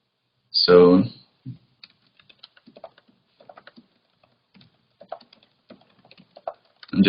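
Computer keyboard typing, scattered soft key taps in irregular bursts, faint and close, between louder stretches of talk at the start and end.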